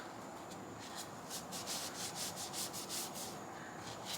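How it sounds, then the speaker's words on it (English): A cloth rubs butcher block oil into a carved wooden spoon, giving a quiet, close, rhythmic swishing that speeds into regular back-and-forth strokes midway. "I'm gonna rub butcher block oil on it"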